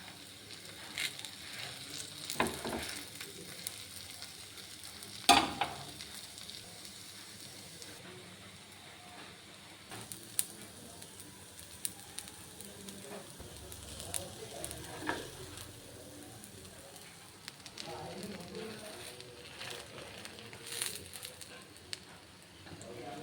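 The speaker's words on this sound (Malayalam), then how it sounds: "ദോശക്കല്ല് വെച്ച് മാവ് ഒഴിച്ചു കുറച്ച് നെയ്യ്" Maggi masala dosa batter fries with ghee on a hot griddle, giving a soft continuous sizzle with occasional sharper crackles and scraping clinks over a long stretch.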